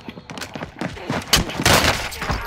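Video game gunfire erupts in rapid, loud bursts of overlapping shots and heavy thuds, building into a dense volley toward the end.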